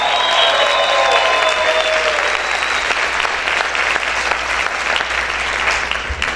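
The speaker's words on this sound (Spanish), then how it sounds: "¿Cuántos pueden gritar y aplaudir fuerte al Señor?" A church congregation applauds loudly and continuously, a dense wash of clapping that holds steady throughout, with a few voices shouting over it at the start.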